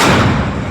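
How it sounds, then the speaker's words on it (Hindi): A gas cylinder bursts during a building fire in India, giving a loud, close, heavy boom that fills the moment and then decays slowly. "तो एक के बाद एक धमाके आप यहाँ पर सुन रहे हैं। वो सिलेंडर थे जिनमें धमाके ये हो रहे थे।"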